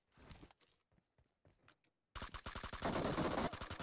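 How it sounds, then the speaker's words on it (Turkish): Rapid automatic gunfire from PUBG Mobile bursts in loud and close after a quieter stretch of faint scattered clicks and shots, keeping up a dense rattling stream of reports to the end. "Zıplayarak vuruyor, zıplayarak vur onu."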